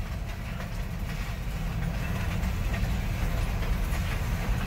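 A train rolls past with a steady low rumble and faint rhythmic clatter of railcars, fairly close and continuous, with no voices.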